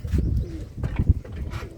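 Soft, low coos of competition flying pigeons in Punjab repeat in a steady rolling rhythm, close and fairly quiet.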